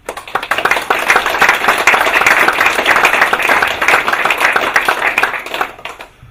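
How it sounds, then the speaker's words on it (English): Audience at a history forum talk on engineering pioneers breaks into loud, sustained applause, many hands clapping together in a thick, steady wash that fades out over the final second. "the best we can do that is just give them a round of applause"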